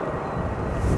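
An airliner departing Stansted Airport, a deep steady engine roar with low rumble that swells slightly toward the end, heard from a distance outdoors with no voices.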